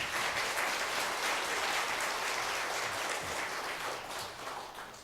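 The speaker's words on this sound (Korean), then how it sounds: "박수를 치고 싶으세요? 그럼 치셔야죠." A church congregation claps together in sustained applause, dense and even, thinning slightly toward the end.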